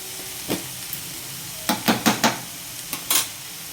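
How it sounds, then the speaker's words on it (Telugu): Meat frying in a pan over medium heat, with a sizzling hiss throughout and a series of sharp scraping clinks as a utensil stirs it, the strokes clustered in quick bursts, close and fairly loud, with no talking. "మంట మీడియంలో పెట్టుకొని కొంచెం వేగనివ్వాలి. ఇది ఓకేనండి, ఫ్రై అయింది."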